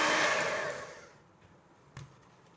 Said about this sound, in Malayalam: നമുക്കിതിനെ നന്നായി ബീറ്റ് ചെയ്തെടുക്കണം.